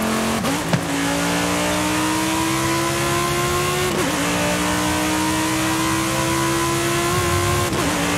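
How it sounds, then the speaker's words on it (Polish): A 2020 Lamborghini Huracán STO engine in Forza Horizon revs loudly and steadily, with a strong rising tone, brief gear-shift dips and a sustained high-revving howl throughout. "Posłuchajmy chwilę, jak brzmi zwykłe Lambo z tym samym silnikiem."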